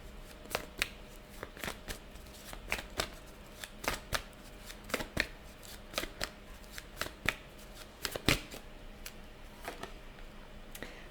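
Tarot cards being shuffled by hand in steady bursts of crisp riffling slaps and flutters, fairly close and moderately quiet, with no one talking.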